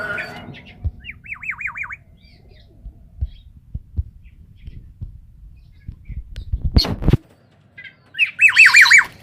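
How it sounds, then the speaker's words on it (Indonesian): A black-naped oriole, or kepodang, gives two loud, close bursts of warbling, wavering whistled calls, one early and one at the end, separated by quiet stretches of soft thumps and handling noises. "Ini burung gacor."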